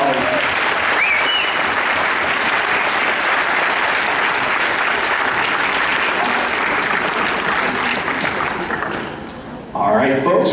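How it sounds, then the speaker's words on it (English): Loud, sustained applause from a cosplay event audience cheering costumed children on stage, steady clapping for about nine seconds before fading, then a voice speaks briefly at the end. "Please give them a round of applause."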